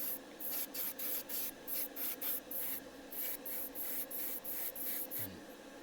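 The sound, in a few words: spraying clear coat on a Hasegawa Lancia 037 model body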